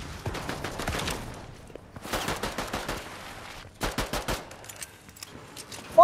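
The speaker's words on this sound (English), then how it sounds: "Someone's shooting at me." Rapid automatic gunfire from Fortnite ranked play comes in three distinct bursts separated by short lulls, fairly loud and close, with a single sharp crack at the very end.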